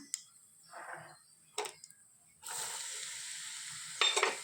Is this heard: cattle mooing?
no